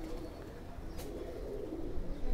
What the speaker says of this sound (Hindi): प्योर फिरोज़पुरी कबूतर है ये